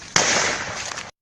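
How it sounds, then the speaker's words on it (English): Gunfire from armed attackers in Nigeria bursts out as a single loud, sharp blast that rings on for about a second before cutting off abruptly. "So the gunshot you are hearing is the terrorists firing at them."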